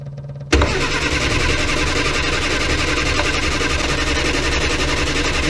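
A Morris Minor's engine cranks briefly on the starter, then catches and runs at a loud, steady, slightly uneven idle close by, with no talk.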